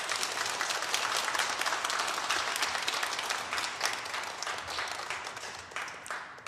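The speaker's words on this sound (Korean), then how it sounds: "우리 귀한 목사님 우리 박수로 응원했으면" Sustained applause from a church congregation at a 72nd anniversary worship service in Ulsan, Korea, welcoming a visiting pastor; dense, steady clapping that fills the space, tapering slightly toward the end.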